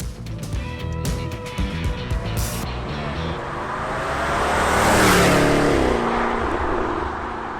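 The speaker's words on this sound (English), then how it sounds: "the F-Type loves to accelerate" A Jaguar F-Type sports car in sport mode accelerates hard at high revs, its engine note climbing steadily into a loud, sustained roar that swells toward the middle and holds, with clicks and a faint voice early on.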